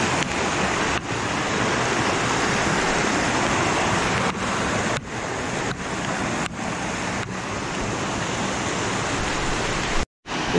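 The Huanano waterfall at San Jerónimo de Surco near Lima roars in a steady, loud, unbroken rush of falling water, close by, with gusts of wind buffeting the microphone and a brief dropout near the end.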